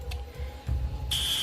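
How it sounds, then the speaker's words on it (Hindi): A fire alarm in a city bank goes off after its glass cover is smashed, a shrill, steady electronic tone cutting in suddenly and holding loud over low background rumble. "पूरी तेजी से फायर अलार्म बज उठा"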